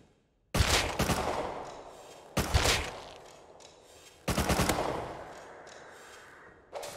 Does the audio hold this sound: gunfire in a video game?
yes